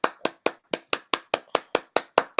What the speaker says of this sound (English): let's give one applause